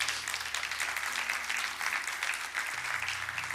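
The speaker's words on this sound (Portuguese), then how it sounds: "Você pode dar um aplauso bem forte ao Senhor?" A church congregation claps loudly and steadily, a dense wash of applause that holds for the whole stretch with faint music beneath it.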